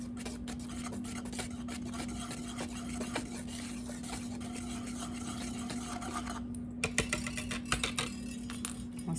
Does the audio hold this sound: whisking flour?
yes